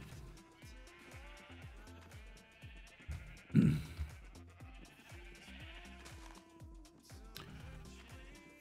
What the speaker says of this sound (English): We really need to move them sheep at some point. It's really obnoxious at times.